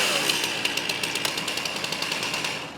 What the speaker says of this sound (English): And last, accelerate the saw.